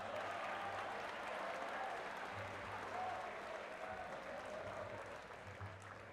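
Sustained audience applause at a school pep rally honoring a football legend, steady and fairly loud across the whole stretch with a continuous crowd wash and no break.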